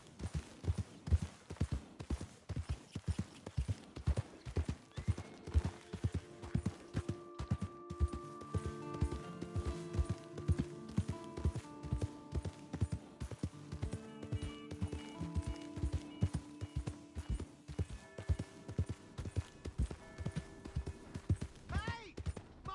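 Horse hooves clip-clopping in a steady, rhythmic gallop throughout, with a voice and tonal music laid over the middle stretch; no distinct neigh stands out from the hoofbeats.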